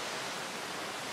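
A small forest waterfall rushes in a steady, even hiss of falling water, soft and continuous with no voices over it.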